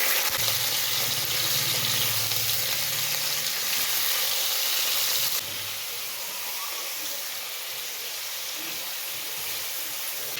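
Raw chicken pieces dropped into hot oil in a kitchen pan, a loud, steady sizzling hiss that fills the clip and eases slightly partway through, with no talking.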